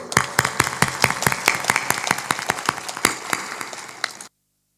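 Rhythmic group clapping at a Hindu devotional gathering, steady and fairly loud with strong unison beats, ending abruptly into silence.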